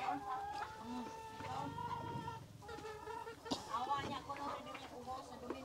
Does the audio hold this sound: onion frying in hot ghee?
no